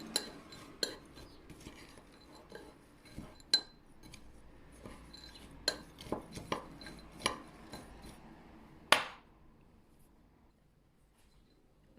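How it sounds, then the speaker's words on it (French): Spoon scrapes and clinks against a bowl while stirring chocolate cake batter with dried fruit dusted in flour, a series of sparse, quiet taps and knocks in a hushed kitchen, one sharper clatter near the end. "Et ensuite, je viens mélanger le tout."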